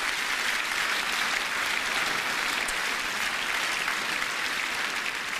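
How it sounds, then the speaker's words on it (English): Awards ceremony audience applauding, a dense, even roar of many hands clapping at once in a large hall, sustained at steady loudness without pause. "please do give yourselves a round of applause."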